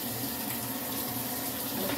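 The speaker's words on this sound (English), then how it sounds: "Cutting this water on to wash my hands again." A kitchen tap runs steadily for hand washing, a close, continuous rushing stream of water with no break and no voices.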